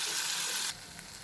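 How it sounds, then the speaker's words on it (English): Masala sautéing over a medium flame for raw papaya curry, a close hissing sizzle that drops suddenly partway through to a quieter fry with a faint stir. "now we will saute this over medium flame till the masalas gets cooked"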